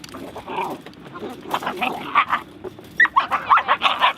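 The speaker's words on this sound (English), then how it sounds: "look at that pretty little dog" A small frightened puppy being trapped by rescuers gives short barks and whimpers, brief yips recurring in clusters, fairly close, with people talking softly around it.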